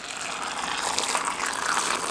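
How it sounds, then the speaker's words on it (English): Lukewarm water pours steadily into a bowl while a simple gluten-free vegan dough is prepared, a continuous close gush with no voices over it. "And we take some lukewarm water"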